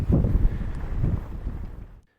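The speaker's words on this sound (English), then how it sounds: "wow, is it windy right now" Strong wind on a mountain summit buffets the microphone in low, rumbling gusts for about two seconds, then cuts to silence.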